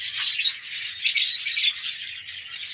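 Canaries and necklace parakeets in an aviary chirp and tweet continuously, a busy overlapping chorus of bright calls at close range with no talking.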